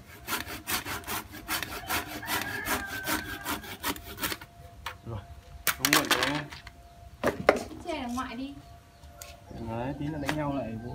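A large hand saw cuts through the wood of a banyan tree in rapid rhythmic rasping strokes that stop partway, followed by people talking nearby in the countryside.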